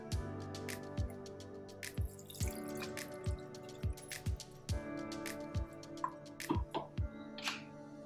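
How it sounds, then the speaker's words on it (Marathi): Water drips and splashes in a steady rhythm, about one drop each second, close by and fairly quiet, with a faint trickle near the end. "मिक्सरचं भांडं थोडं स्वच्छ धुवून घ्यायचं"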